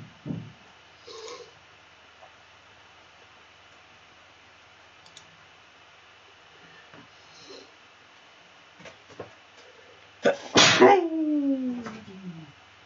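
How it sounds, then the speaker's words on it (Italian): A person sneezes once, a loud sharp burst near the end, indoors while feeding three hungry cats, with faint clicks and small rustles before it. "Scusate, uno starnuto."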